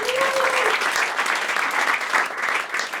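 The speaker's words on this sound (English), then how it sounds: "round of applause for the young lady" An audience at a live comedy show gives a brief round of dense, even applause, loud and close, with a short voice or whistle at the start.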